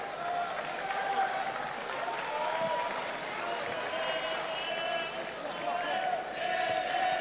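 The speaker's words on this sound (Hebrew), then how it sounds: "קהל פה מתעורר" Home crowd at an Israel vs Estonia basketball game stirs with sustained applause and cheering that fills the whole stretch at an even, moderately loud level, with no clear speech on top.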